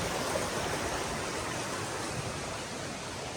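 King Creek flows at Burroughs Ford access along the Foothills Trail, a steady broadband rush of running water filling the whole stretch without a break, close and fairly loud.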